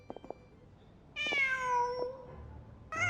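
Cat meows in the video game Genshin Impact: a few soft clicks, then a long, clear, near meow followed after a pause by a second meow starting, no talking.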